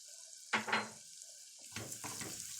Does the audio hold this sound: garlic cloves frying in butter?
yes